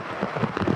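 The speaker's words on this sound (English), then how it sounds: "it's absolutely pouring rain" Heavy rain pours onto a tarp at a remote Lake Superior campsite, a dense close patter of drops drumming without pause over a short stretch, no voices.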